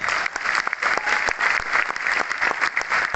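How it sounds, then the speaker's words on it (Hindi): Loud applause from an audience at a seminar-style gathering, dense and steady clapping filling the room for about three seconds with no voices over it. "मैं चाहूंगा एक बार एक ताली जोरदार हो"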